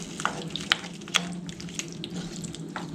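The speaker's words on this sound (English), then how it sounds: "I'm going to pour in the chicken broth." Chicken broth poured into a cooking pot for a chicken or turkey pot pie gives a close, steady splashing gurgle with scattered sharper drips and crackles, heard alone without talk.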